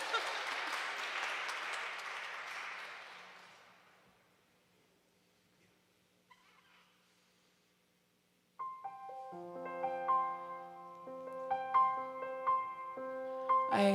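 Applause from a live concert audience rolls for about four seconds and fades out, followed by a pause and then tonal music with sustained notes starting up partway through.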